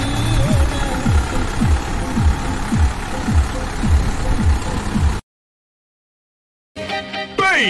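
A Kubota tractor with a heavy bumper runs at a steady, loud diesel chug, its knocking beats repeating evenly until the sound cuts off abruptly; after a pause a short burst of music follows.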